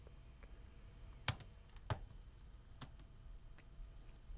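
Sparse keystrokes on a computer keyboard, a few isolated clicks spaced out over a quiet background, one sharper tap standing out, close and faint.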